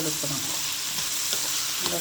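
Garlic, green and dried chillies and pepper frying together in a pan while being stirred, a close dense sizzle broken by repeated scraping stirs.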